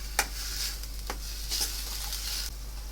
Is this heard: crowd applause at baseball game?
no